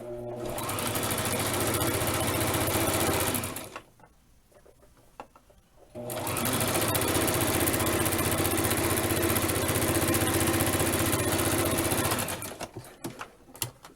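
A sewing machine runs in steady, loud bursts while stitching a quarter-inch hem along the bottom of a Barbie dress, buzzing continuously for several seconds, pausing briefly, then running again before slowing to a stop.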